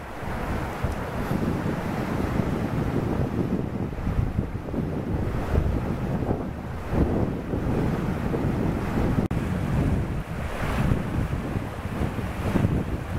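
Rough sea surf churns and breaks on the shore in a continuous loud wash, with heavy wind buffeting the microphone and surges rising and falling every few seconds; nobody speaks.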